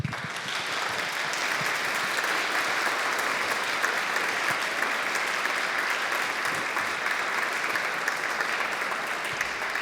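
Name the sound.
audience applause at conference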